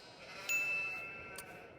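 Sheep bleating in a Mars colony farming video game, a single faint drawn-out bleat with a clear tonal cry over a quiet background hum.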